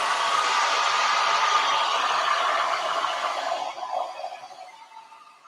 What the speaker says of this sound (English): to speed up the drying process, I shall crank on the hairdryer